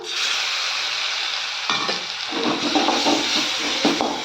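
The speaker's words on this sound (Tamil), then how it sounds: "வெங்காயம் நல்லா வதங்கிடுச்சு" Onions sautéing in a pan for an egg and cabbage podimas, a steady broadband sizzle with stirring scrapes and clinks growing busier in the second half, close and loud with no voices.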